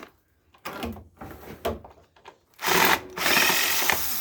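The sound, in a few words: power drill removing screws from a floor vacuum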